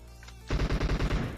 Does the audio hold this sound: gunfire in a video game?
yes